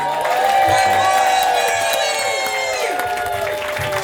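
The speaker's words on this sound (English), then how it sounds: "Everybody, start clapping! Start clapping!" A comedy club audience claps, cheers and whoops as a comedian takes the stage, loud and close, with high voices rising and sliding over the clapping.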